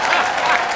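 Studio audience at a comedy show breaks into applause, a dense, loud wash of clapping that fills the whole brief moment.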